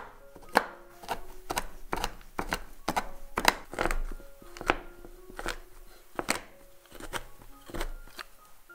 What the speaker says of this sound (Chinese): 将200克的苦甜巧克力切碎